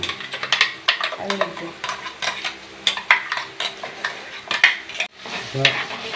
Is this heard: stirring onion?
yes